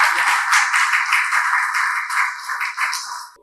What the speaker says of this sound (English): I want to give you to give him a very special round of applause.